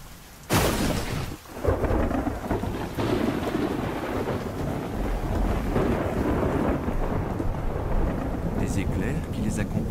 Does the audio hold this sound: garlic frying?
no